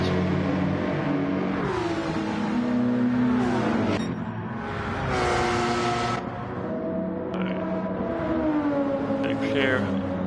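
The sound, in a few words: GT race cars passing at Monza, from a racing video game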